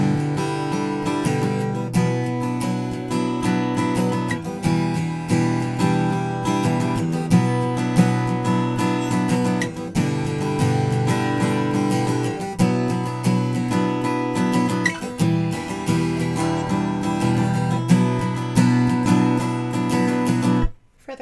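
Strummed guitar chords for the verse of a song, played steadily and close for about twenty seconds in a continuous rhythmic pattern, loud and alone with no talking, ending abruptly.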